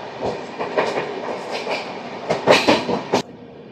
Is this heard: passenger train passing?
yes